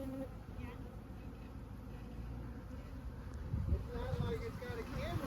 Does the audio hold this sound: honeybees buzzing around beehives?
yes